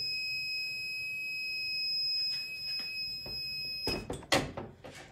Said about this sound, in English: This press does beep.